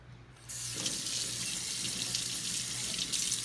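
A tap turns on and water runs steadily into a sink, a continuous hissing splash close by.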